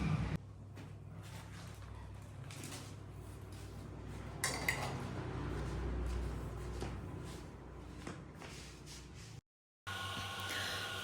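Dishes and utensils clink and clatter in a home kitchen while food is prepared, with scattered faint knocks and a brief louder rattle midway over a low background hum, followed by a short gap of silence near the end.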